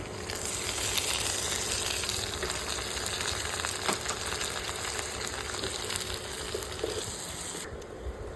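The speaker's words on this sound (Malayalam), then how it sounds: "ഇതിലേക്ക് രണ്ട് തക്കാളി ഇട്ട് കൊടുക്കാം" Crab roast sizzles steadily in a hot pan as tomatoes go in, a continuous moderate frying hiss with faint stirring, close by and without talking.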